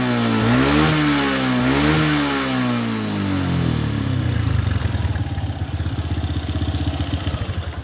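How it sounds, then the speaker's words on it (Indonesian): Kawasaki motorcycle engine with a worn piston, first revving with rising and falling pitch, then settling into a loud, close, rapid rhythmic knocking idle. "suara yang semacam ini biasanya adalah suara piston yang sudah oblak"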